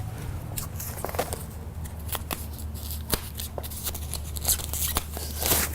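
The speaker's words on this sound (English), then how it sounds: "Now we'll get all this wrapping off. Let me grab my scissors real quick." Scissors snip and crinkle through plastic wrapping on a KD Smart Chair power wheelchair, with close, crackly cuts and rustling over a steady low hum and no talking.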